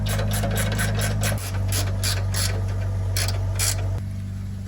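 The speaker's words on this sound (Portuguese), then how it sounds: "Aqui eu estou colocando de volta o tanque e o suporte do aquecedor." A diesel heater's tank and support bracket are refitted in a Land Rover Defender 110 camper, heard as close, repeated scraping and rasping metal mechanism noises over a low, steady hum.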